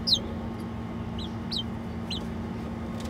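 Chickens in a backyard pen with pigeons give a few short, high clucks spaced apart over a steady low background hum, fairly close.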